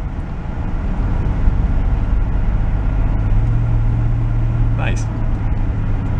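A 1970 Mercury Cougar saved from a scrap yard, fuelled with 93 octane and showing a little pinging, idles with a steady, rumbling engine drone while people talk over it and one voice speaks briefly.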